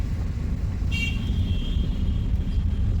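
A car cruises steadily in second gear along a main road during a driving lesson, its engine a constant low rumble with road noise and a brief high whine near the start.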